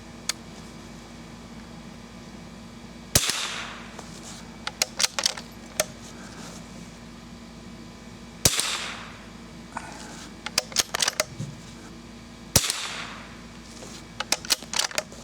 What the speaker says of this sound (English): We're going to shoot at that target on the right in the top row.